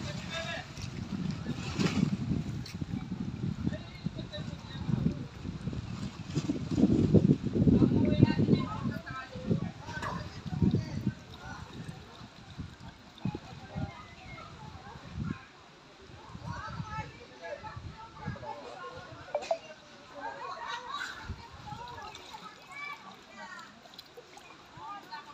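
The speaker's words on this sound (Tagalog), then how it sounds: "Tubig mga lods." Water splashing and sloshing outdoors where people are fishing, with uneven splashes loudest early on and voices talking over it throughout.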